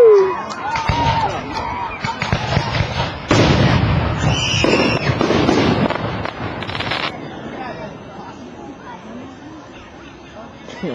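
Fireworks show at Bonners Ferry, Idaho, with repeated booming bursts and crackling pops over several seconds, dense at first and then thinning out, while a crowd cheers and people talk throughout.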